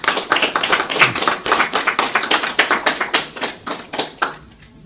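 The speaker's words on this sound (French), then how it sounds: "que je vous demande d'applaudir très fort" Applause for an invited guest at a French-language book presentation, a small group clapping in loose, fairly sparse bursts that thin out and fade near the end.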